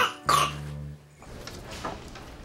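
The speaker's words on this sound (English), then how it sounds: "He's been coughing an awful lot." A single harsh cough from a baby with possible asthma, close up, followed by a brief throaty rasp and quiet background.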